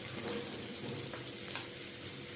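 Capsicum sautéing with ginger garlic paste in a pan, a continuous bright sizzle close up with faint stirring clicks, no talk.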